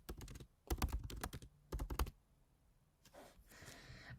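Keys tapped on a computer keyboard while entering text into a presentation design tool, in quick bursts of close, crisp clicks separated by short pauses, with faint rustling near the end.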